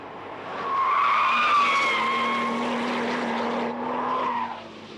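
A Porsche 911 Turbo slides on a circuit at Lurcy-Lévis, its tires squealing in long, loud, wavering screeches over the engine's drone for several seconds before fading.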